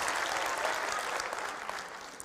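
A university audience at a comedy show claps steadily. The dense applause is moderately loud and fades slightly toward the end, with no talking over it.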